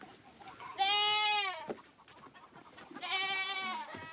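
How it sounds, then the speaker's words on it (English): A goat bleats twice in long, wavering calls with a short gap between them, clear and close over quiet background noise. "Why is a stupid goat eating paper"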